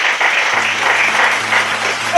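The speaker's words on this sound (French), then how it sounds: "Acclamons d'abord pour la gloire." A church congregation in a Kinshasa tabernacle applauds in steady, dense clapping throughout, with voices calling out under the applause.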